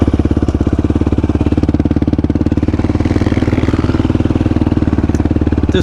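A Yamaha YFZ450R quad's engine runs loud and close in a steady rapid single-cylinder thump with clattery mechanical texture, holding a fairly even pace with slight rises in revs throughout.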